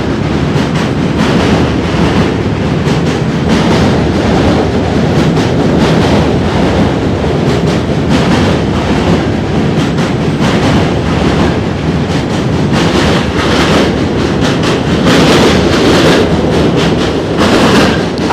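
A New York City train crossing a bridge, heard from on board as a loud, continuous rumble with rattling wheel clatter that holds steady throughout.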